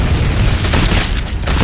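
Plasma core blowing up in the video game Nitemare 3D: a loud, sustained low explosion rumble lasting under two seconds, dense and booming throughout with no talking.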